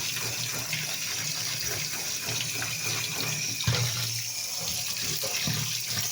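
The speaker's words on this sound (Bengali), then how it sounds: "সেগুলোকে একটু ভালো করে ধুয়ে নিতেই হবে" Tap water runs steadily into a sink while wild leafy greens gathered from roadsides and fields are rinsed, with splashes and gurgles under a continuous gush.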